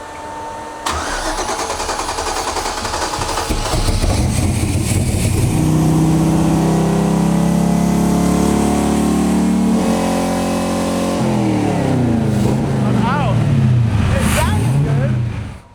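An LS V8 fed by three lawn mower carburetors cranks, catches and revs hard, its loud steady roar climbing and holding through repeated throttle blips before a sharp cutoff, with voices partly under the engine.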